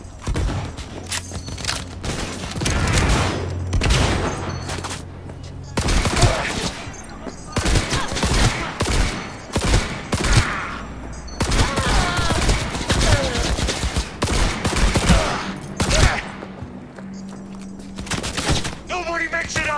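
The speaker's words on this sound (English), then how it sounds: "Opening fire." Rapid automatic gunfire and bursts in the video game Cyberpunk 2077, dense volleys of loud shots with mechanical clatter and shouted voices in between, continuing for the whole stretch.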